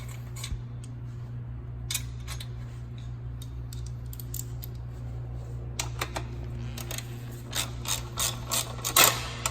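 A ratchet tightens bolts on the exhaust clamp of a KTM RC390 during a Yoshimura Alpha-T slip-on install, giving quiet, close clicking that comes in scattered bursts over a steady low hum and grows busier toward the end.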